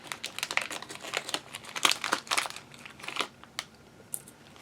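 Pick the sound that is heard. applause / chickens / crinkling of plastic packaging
crinkling of plastic packaging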